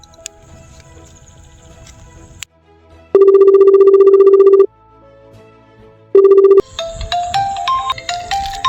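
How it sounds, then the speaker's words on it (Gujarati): A mobile phone rings loudly and close, an electronic ringtone playing two bursts of repeated tones separated by a short gap, then a melodic tune follows. "હા લે આ તો ગબ્બર નો ફોન છે."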